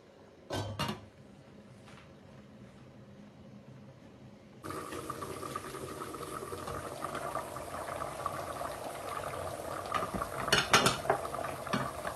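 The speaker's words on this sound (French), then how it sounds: "Il faut remuer un peu et fermer à feu doux. Il faut laisser mijoter 10 minutes." A few utensil clinks come first. Then a pot of rice for riz gras settles into a steady, close hiss and bubble as it simmers covered on low heat, with no talking.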